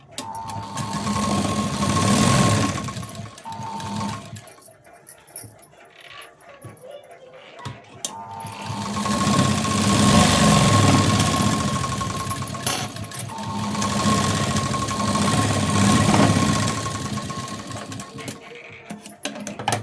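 A sewing machine stitches a blouse fitting seam in bursts of steady rapid whirring, stopping and restarting with quiet pauses between runs of stitching.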